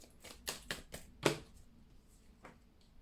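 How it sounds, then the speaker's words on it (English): Tarot cards being shuffled by hand, a quiet run of crisp riffling flicks in short bursts, the loudest near the middle, followed by a few softer taps at close range with no speech. "I'm shuffling the deck."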